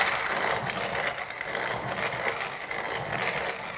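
A hand-cranked grinder works through split peas for dhalpourie roti, producing a steady, fairly quiet gritty rasp with a faint rhythmic mechanical churn and no talking.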